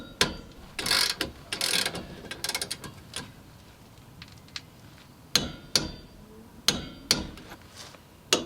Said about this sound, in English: I'm gonna put that socket on there and hammer on it.